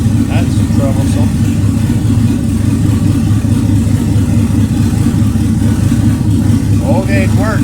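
1965 Ford Thunderbird with a Ford FE 390 V8 running close by, a steady loud idle rumble with brief revs, with faint bits of voice over the engine.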